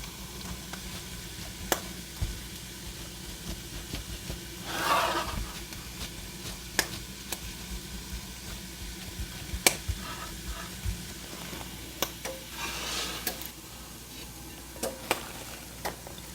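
Onions and mushrooms sizzle quietly in a frying pan, a soft continuous frying hiss with scattered pops and crackles, plus a few brief bursts of louder spattering, heard close with no talk.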